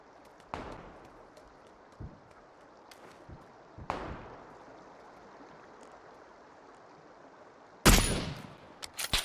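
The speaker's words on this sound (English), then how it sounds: "He's shooting at him." Video game gunfire: a few sharp shots spaced several seconds apart over a steady wash of ambient noise, ending in a louder, denser burst of shots.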